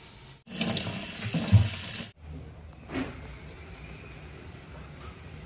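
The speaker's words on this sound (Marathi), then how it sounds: "छान स्वच्छ धुतले आंबे" Kitchen tap gushing into a sink as mangoes are washed, a loud burst of running water for about a second and a half, then stopping, followed by quieter splashes and handling sounds.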